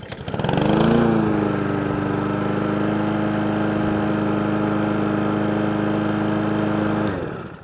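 A lawn mower engine starts with a quick pull and settles into a steady, loud running hum, then cuts off abruptly at the end.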